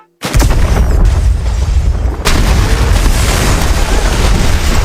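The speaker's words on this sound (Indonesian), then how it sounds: "sebelum gedungnya meledak akibat kebocoran gas" A gas leak sets off a massive building explosion in a film scene: a sudden loud boom erupts into sustained roaring, rumbling blast noise with a second surge midway, close and overpowering, with no speech.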